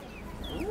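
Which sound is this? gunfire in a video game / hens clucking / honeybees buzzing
hens clucking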